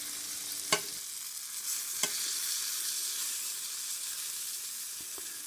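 Puffball mushrooms (Lycoperdon perlatum) fry in butter in a pan, giving a steady, close hiss of sizzling with a few sharp clicks of a utensil against the pan.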